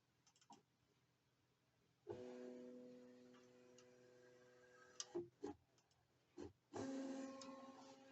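A LOKLiK Impress Auto Tumbler cutting machine, connected by USB, positions its cutting mat with a steady motor whine and ticking, in two running stretches separated by short clicks and pauses, close and moderately loud.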